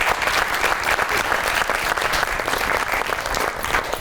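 An interview audience applauding, dense continuous clapping that stays loud and even for several seconds with no one talking over it.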